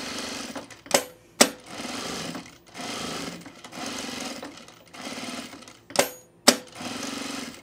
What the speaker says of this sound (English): I'm gonna continue this perimeter seam here. This is nice, I have the right color thread on. So quarter inch seam.